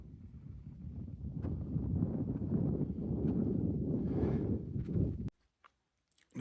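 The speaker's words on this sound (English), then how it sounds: "There's nothing to hear except the wind" Wind buffets a microphone at a desert campsite, a steady low rumbling rush that holds for several seconds and then cuts off abruptly, followed by faint sparse ticks.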